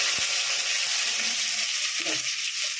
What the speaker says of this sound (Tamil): ஆமாப்பா, வெங்காயம் போடுறோம்